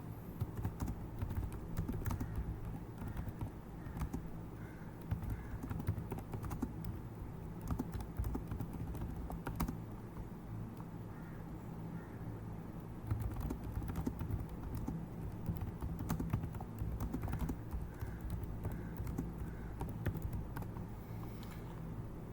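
Steady computer keyboard typing, a continuous stream of close, quiet key clicks with short pauses, entering a prompt on a computer, no voices.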